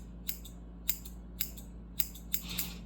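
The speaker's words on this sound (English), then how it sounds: "Scissors, y'all. Very important." Scissors cutting hair during a haircut, five crisp separate snips spaced about half a second apart, close and alone over a quiet low hum.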